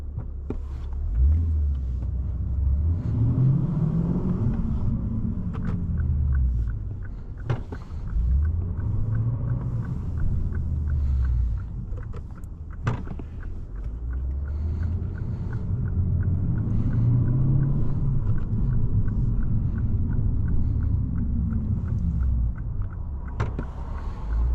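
A 2025 Lexus RC F Final Edition with a V8 engine rumbles from inside the cabin while driving, a steady low engine drone rising and falling in slow sweeps, with no talk.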